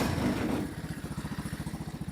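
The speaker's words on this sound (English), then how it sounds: "Maybe turn the idle up a little bit." A Tao Motor 110cc go kart engine idles nearby after a brief louder rev, settling into a steady, rhythmic low putter that throbs evenly to the end.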